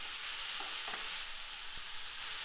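Chopped tomatoes cook in a pan for Yemeni shakshuka, giving a steady, close sizzle and hiss with a few soft stirring scrapes.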